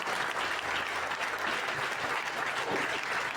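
A church congregation applauds continuously, dense steady clapping from many hands filling the room without pause.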